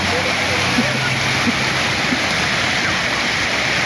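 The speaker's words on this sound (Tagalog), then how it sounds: "Lumakas na yung alon sa ayan, umalon-alon na." Churning water at a highland resort, a steady broadband rush like a waterfall or strong surge that roughens into choppy waves, filling the whole stretch without pause, with faint voices mixed in underneath.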